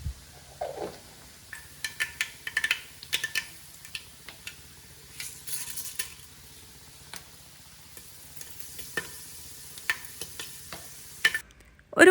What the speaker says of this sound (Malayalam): കടുക് പൊട്ടിയ ശേഷം 1/2 ടീസ്പൂൺ ഉലുവയും ചേർത്ത് മൂപ്പിച്ചെടുക്കാം.